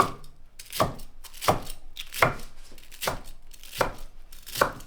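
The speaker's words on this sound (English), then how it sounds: "Cut them in 2 pieces." A knife slices through fried tonkatsu pork cutlet, cutting it in two with six crisp, evenly spaced crunching chops on a board, close and clear.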